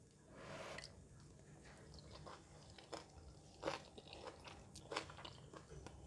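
Someone eats Chinese-style stir-fried vegetables with fluffy egg, rice, chili and crispy fried onions, giving soft, close crunches and chewing in irregular bursts over quiet breathing, with no speech.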